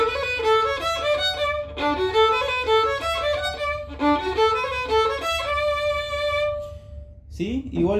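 A bowed violin plays the introduction of a song, a flowing melodic phrase of rising and falling notes, pausing briefly, then repeating it before ending on a long held note.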